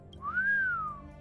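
A single smooth whistle in Honkai: Star Rail rises and then gently falls in pitch over about a second, clear and prominent against a quiet low hum, with no speech.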